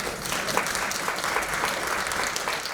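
Audience applause at a celebration event, dense continuous clapping from a crowd, moderately distant and steady throughout.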